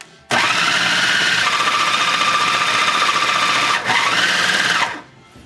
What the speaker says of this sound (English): processor is starting to bind a little bit. It's starting to sound like it's laboring.